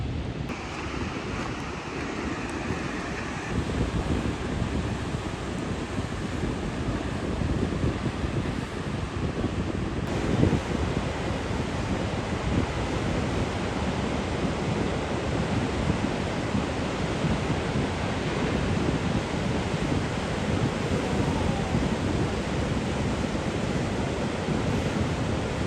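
Large ocean waves break continuously at a Moroccan surf spot, a steady loud roar of surf mixed with gusting wind buffeting the microphone, no voices heard.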